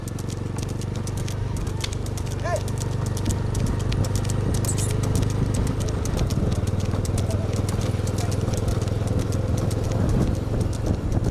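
Hoof beats from a rural bull race in Pudukkottai district, a dense, steady clatter of running hooves under a constant loud rumble of crowd and engine noise, with faint voices in the background.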